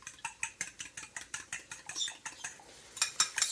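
Two eggs for pork fried rice being beaten and scrambled with a utensil in a pan, heard as a quick, steady run of light clicking scrapes, fairly faint and close, without talk.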